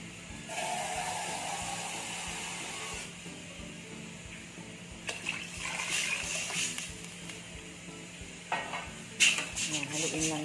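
Steady scraping and swishing of a utensil stirring chicken sotanghon soup in a pot, with a few clinks and splashes toward the end, close up.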